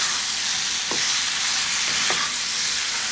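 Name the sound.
vegetables with raw mango stirred and sizzling in oil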